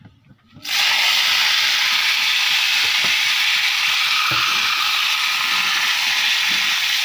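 Food hits a hot pan as cooking begins, bursting into a loud, steady sizzle and hiss after a brief quiet start, continuing unbroken with faint stirring clicks.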